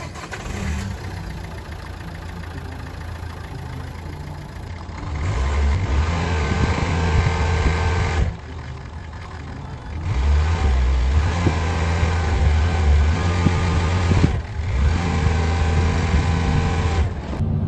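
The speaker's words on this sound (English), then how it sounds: "I'm gonna go and start the car up and let's see how it goes." A Nissan Qashqai, just back together after its blocked diesel particulate filter was removed and cleaned, cranks and starts, then idles with a steady low engine drone that swells and dips between short quieter gaps, heard fairly close with no talking.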